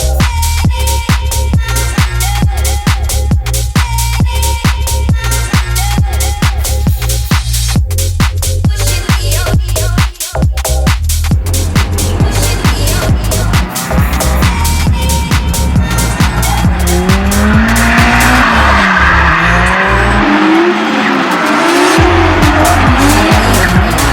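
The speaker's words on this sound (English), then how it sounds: "as you can hear, the cars in the background has just kicked off. Runs have started, practice is going." Drift cars run practice laps at Special Stage East, engines revving hard with rapid bouncing limiter bursts and long tire squeals, loud and sustained, cars sweeping past near and far.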